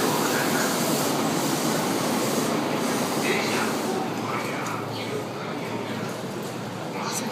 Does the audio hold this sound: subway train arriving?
yes